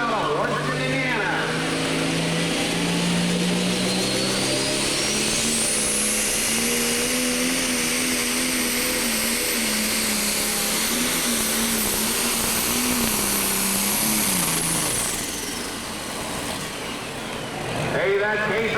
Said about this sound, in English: Hey, that Case IH MX270 had all it can handle there.